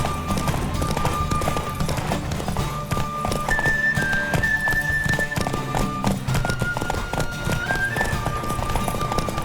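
Rapid hoofbeats clatter in a steady galloping rhythm, close and continuous, with a horse neighing amid The Witcher 3: Wild Hunt game sounds and a faint musical tone.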